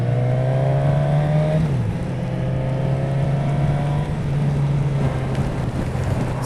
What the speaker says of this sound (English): Oh god, this bike sounds so good.